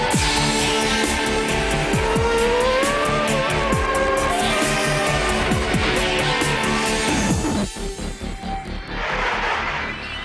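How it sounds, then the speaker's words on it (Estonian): Race cars roar around an ice track at an Estonian championship ice racing event on a frozen bay, engines loud and continuous with rising and falling revs and gear changes, then a car passing closer near the end. "mootorid pannakse aga tõeliselt mürisema Holmilahe jääl, kus toimuvad Eesti meistrivõistluste sõidud jääraesõidus"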